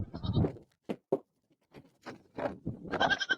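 A goat bleats close by in a few short, separate calls with brief quiet gaps between them.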